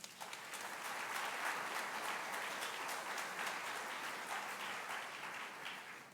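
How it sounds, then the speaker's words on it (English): Sustained crowd applause at a college graduation ceremony, many hands clapping steadily at an even loudness throughout, with no talking over it. "Let's give her a round of applause."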